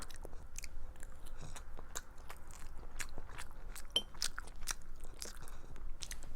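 Kimchi is bitten and chewed close to the mic, with wet crunchy bites and repeated chewing clicks in a steady uneven rhythm over a quiet background.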